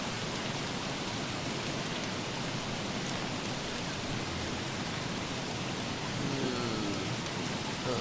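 Rain falling in the video game Don't Starve, a soft, even hiss of steady rainfall that stays constant and fairly quiet throughout.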